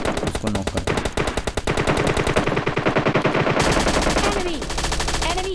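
Rapid automatic gunfire in PUBG Lite, a mobile battle royale shooter with an M4 rifle present: long, loud, evenly spaced bursts of shots run almost continuously, with a short change in tone midway.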